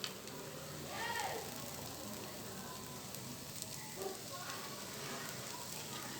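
Egg poured into hot ghee in a pan with spinach, hissing and sizzling steadily at close range while someone talks throughout.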